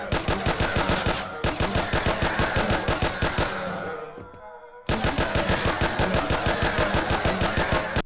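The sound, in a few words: gunfire in a low-rated FPS video game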